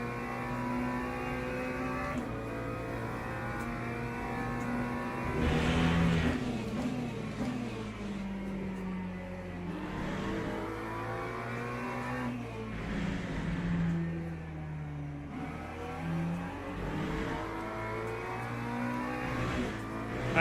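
A McLaren race car's engine drones in a racing video game at Silverstone. Its revs climb repeatedly and drop sharply at each gear change, through a steady series of upshifts and brief downshifts at moderate volume with no talk.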